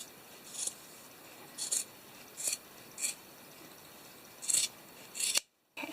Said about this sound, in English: And then we're going to cut off this bottom part of fabric.